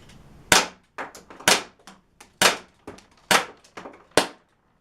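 A Crosman C41 air pistol fires off the rest of its magazine, about nine sharp, loud snapping shots at a steady, slightly uneven pace with brief silence between them.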